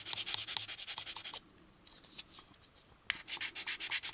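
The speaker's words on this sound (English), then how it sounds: "just to give this a little cross sanding" Rapid rhythmic cross-sanding strokes on a plastic part of an AMT U.S.S. Enterprise model kit rasp back and forth, pause briefly, then resume at a steady quick pace close up.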